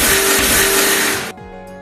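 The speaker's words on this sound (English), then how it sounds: "Then put it into a grinder and coarsely grind it." Electric spice grinder coarsely grinding cumin and onion seeds, a loud, dense whirring roar that runs steadily, then cuts off abruptly as the motor stops and winds down.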